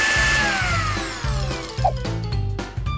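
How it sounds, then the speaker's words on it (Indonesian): Electric blender whirring loudly as it grinds black bread into small crumbs, a steady motor drone with pitch shifts and brief surges, alone without talk. "Selanjutnya roti hitam harus dikirim ke blender untuk diparut dengan remahan-remahan kecil."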